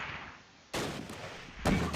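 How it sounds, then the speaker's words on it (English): Mortar rounds landing in Close Combat: Last Stand Arnhem, two sharp, loud impacts about a second apart that cut abruptly through a quiet background. "Here come the mortars."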